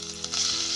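Ginger garlic paste hits hot oil in a pressure cooker and sizzles, a hiss that swells sharply partway through and then stays loud and steady, close up with no voices.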